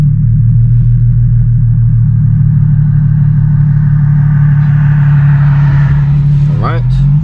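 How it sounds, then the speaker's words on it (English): A car passes on the road beside a 2008 Infiniti G35, a steady low rumble of traffic and engine swelling and fading, with a brief whoosh as it goes by near the end. "let's wait for this car to pass us by"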